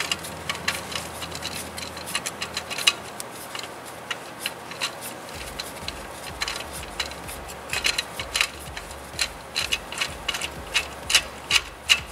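A ratchet clicks in repeated bursts while a long bolt is backed out of the serpentine belt tensioner on a Dodge, Jeep or Chrysler 3.6 Pentastar engine, the pawl clicking close and crisp with no talk.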